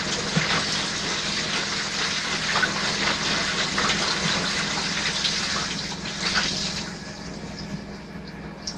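Water running through the bathroom water pipes of a house, a steady broadband rush that stays continuous and fairly close for the whole stretch, with no talking over it.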